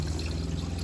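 Water pushed by an RV water pump rushes into the water heater in a steady, loud, continuous flow, with no voices over it.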